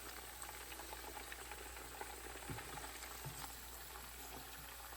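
Khagina, Pakistani-style scrambled eggs, cooking in a pan, giving a steady soft sizzle and bubbling hiss throughout with faint clinks, fairly quiet and alone.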